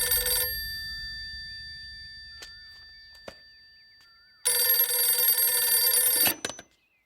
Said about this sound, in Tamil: ஹெலன், உனக்கு தான் ஃபோன்.